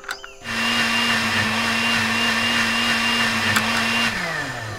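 A blender in the point-and-click game Deponia Doomsday, a loud steady motor whine with a constant hum that starts abruptly after a brief clatter and winds down at the end.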